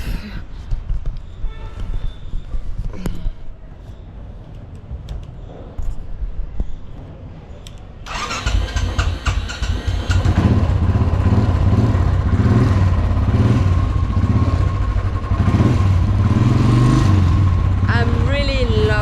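A Royal Enfield motorcycle engine starts partway through and settles into a loud, throaty rumble with revving, following quieter handling noises and clatter.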